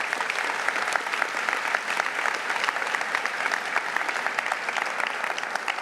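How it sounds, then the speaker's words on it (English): Sustained applause from a ceremony audience at a medical school white coat ceremony, steady dense clapping throughout at even loudness with no talk over it. "Please join me in congratulating these wonderful role models with a round of applause."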